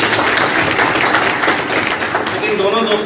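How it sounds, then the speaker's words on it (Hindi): Loud audience applause at a business talk event, a dense roar of clapping close to the microphone with some tonal murmuring underneath near the end. "आदरणीय उनके लिए मैं चाहूंगा तालियां"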